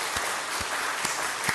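Church congregation applauding on Easter morning, a steady dense wash of many hands clapping together, fairly loud and unbroken with no voices on top.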